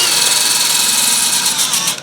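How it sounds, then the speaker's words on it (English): A power drill spins a flat 120-grit sanding disc against the bearing seat of a Land Rover wheel hub, a steady, close, high-pitched whirring grind that holds evenly for two seconds before tapering off at the end. "put one of these sanding discs on here, these flat sanding discs"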